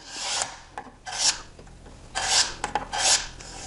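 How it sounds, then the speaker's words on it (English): A sharpened putty knife scrapes small flares of wood off the shoulder of a live edge log box lid. Four or five short, loud rasping strokes come close up with brief pauses between them. "I just use a sharpened putty knife to scrape those little flares or"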